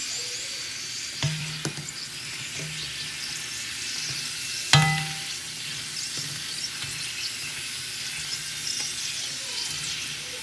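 Moderate, continuous sizzling of snacks frying in oil, with occasional clinks and scrapes from stirring, one sharper knock near the middle.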